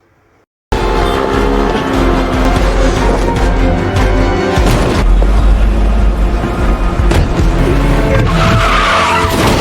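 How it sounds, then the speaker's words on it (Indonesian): A loud, close motorcycle chase with roaring engines and screeching tire skids, racing continuously after an abrupt start. "Ngo kabur memakai motor lalu Bong pun mengejarnya."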